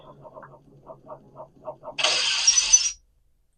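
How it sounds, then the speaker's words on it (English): Glass on a TV screen shatters in a video game: a sudden bright crash lasting about a second, preceded by a series of soft pulsing tones and followed by silence. "Did he break through the glass on the TV?"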